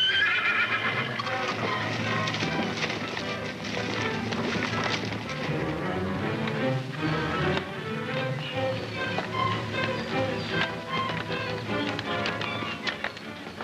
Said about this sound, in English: What's the matter with that horse?